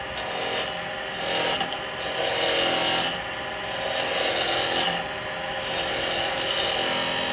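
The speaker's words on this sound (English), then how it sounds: "Of course, with wet wood, you do get nice shavings." Wet wood being cut on a woodturning lathe, with a continuous rough rasping cut that swells and fades in several passes as the tool works, close and fairly loud.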